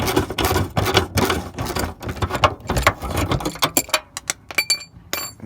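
A 10mm ratchet with an extension loosens screws on a Honda Pilot rear bumper, with rapid, close metallic clicking in bursts, then sharper separate clinks and ticks toward the end.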